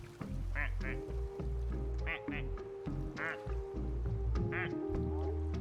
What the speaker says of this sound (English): I like that you can make them quote-unquote quack regardless of what their sound is.